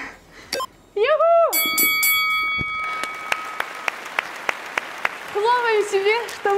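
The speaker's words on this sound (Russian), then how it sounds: "Хлопаем себе, что мы закончили эту тренировку." After a fitness workout, a few sharp, separate claps ring out over a sustained tone and bright chimes. An excited voice shouts before and after them.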